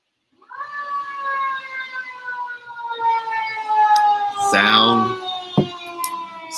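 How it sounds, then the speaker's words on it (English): A fire engine siren wails in a long, steady, slightly rising tone, close and fairly loud, with a brief burst of voice and a couple of sharp clicks breaking in near the end. "Sound of an ambulance, or actually a fire engine."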